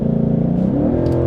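Engine and exhaust of a 2021 Ford Mustang GT with flood damage, a steady throbbing idle that climbs into a brief rev, close and loud, with no voices.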